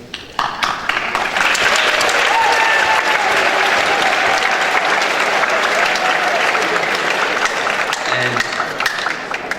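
Sustained, loud audience clapping at a high school awards assembly honoring students, a dense even roar of hands lasting several seconds with a brief spoken word at the start.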